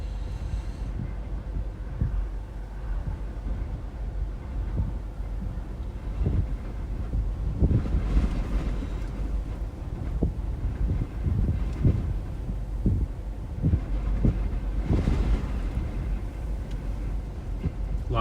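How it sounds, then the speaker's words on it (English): Strong wind roars steadily during a nighttime tornado storm, with dust blowing. Low, constant rushing gusts swell in several stronger bursts against the microphone, with no voices heard. "Lots of wind, lots of dust right here."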